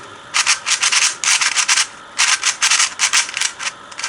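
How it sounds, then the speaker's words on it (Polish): Lubricated speedcube being turned, giving repeated dry, scratchy rasping bursts in quick clusters, loud and close with brief pauses between turns. "Kostka jest nasmarowana, bo ją smarowałem. I mimo to yy, taki odgłos wydaje. Jakby była kompletnie nie nasmarowana."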